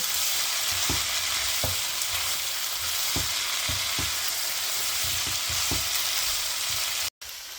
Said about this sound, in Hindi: हाई फ्लेम पे 2 से 4 मिनट के लिए पकाएंगे, ताकि हमारी ये सब्जियां थोड़ी सी सॉफ्ट हो जाएं